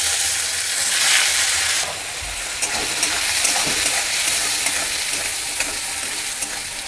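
Chopped onions hit a hot pan after fried eggs are lifted out, bursting into a loud sizzle that eases into steady frying with scraping stirs, close and with no talking.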